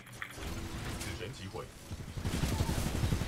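Rapid gunfire in a shooter video game, a busy stream of shots running under a spoken commentary voice and building denser toward the end.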